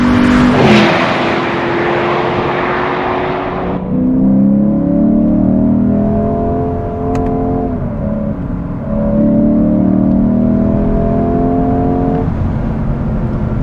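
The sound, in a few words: Lexus IS 500 V8 accelerating off the line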